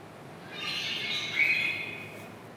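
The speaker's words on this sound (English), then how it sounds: "a bird twitting" A single bird calls with a sustained, high-pitched squawking cry, moderately near and fairly clear, swelling to a brief louder peak midway before fading, over a quiet background hiss.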